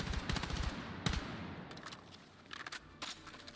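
Automatic gunfire hipfired in Battlefield 6, rapid bursts of shots ringing out with a sharp burst near the start and another around one second, then quieter scattered shots and distant fire trailing off.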